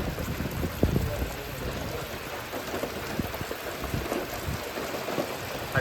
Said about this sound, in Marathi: किती पाऊस आहे बघा इथं.